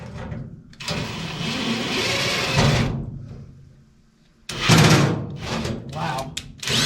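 The end of a parking brake cable on a 1941 Chevy truck is deburred with a power tool in two loud, rough grinding bursts split by a short pause, close up and with no talk.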